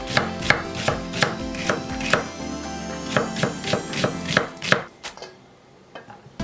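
A knife slices an onion into thin julienne strips on a cutting board, a quick run of sharp, close chopping taps with no voices, stopping near the end.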